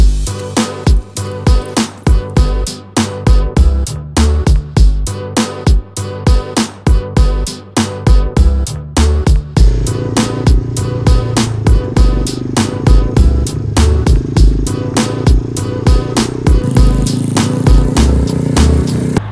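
A motorcycle lapping a race track, its engine rising and falling in repeated rev cycles during the first half, then holding a steadier, sustained drone, loud and close the whole way.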